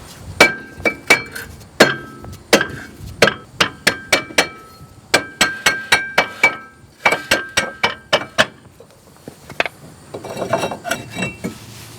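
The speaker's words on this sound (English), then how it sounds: "we can use our rubber mallet to work our rotor off" A rubber mallet pounds the rear brake rotor of a 2008 Hyundai Elantra 2.0L to free it, giving sharp ringing metallic strikes in irregular bursts of two to four blows with short pauses, followed by a brief scraping rattle.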